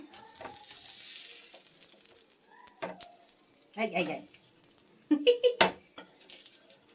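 Gram-flour bread toast frying in a pan with vegetables, a soft sizzle and then clinks and scrapes of a spatula as it is flipped, with a person talking quietly in between.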